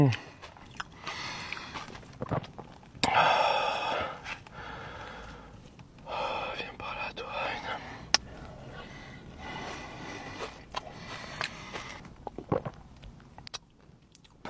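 Someone takes a bite of a crunchy cheese bomb filled with chocolate and pistachio and chews it close up, with crisp bursts of biting and mastication separated by breaths and short pauses.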